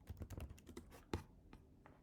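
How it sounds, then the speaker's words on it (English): Quick keystrokes on a computer keyboard, a short burst of about a dozen close, crisp clicks with one louder tap near the middle, heard alone in a quiet room. "type in Hallmark."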